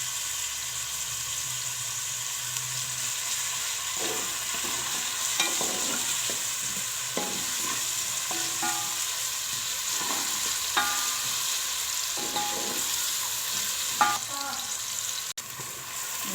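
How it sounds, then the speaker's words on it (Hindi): Mixed vegetables with potato and moong dal fritters sizzle steadily as they brown in a pan, with intermittent spatula scrapes and stirring clatters throughout and no voices. "भूनते हैं। अच्छी तरह इसको ब्राउन करते हैं, इसकी स्मेल ख़त्म करने के लिए।"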